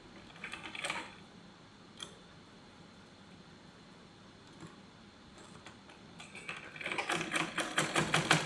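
A sewing machine stitching a salwar, quiet and intermittent at first, then breaking into a rapid, loud, rhythmic run of needle strokes near the end.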